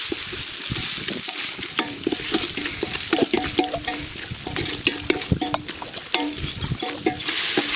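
Onions frying and being stirred in a pan for crab rasam, steady sizzle with repeated spoon scrapes and knocks against the pan, close and fairly loud, no talking.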